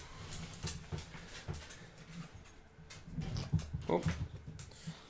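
Dogs whimpering and panting close by, with rhythmic breathy huffs and soft whines amid shuffling movement and indoor noise.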